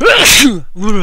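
A person sneezes once, loud and close, with a sharp breathy burst followed by brief talking.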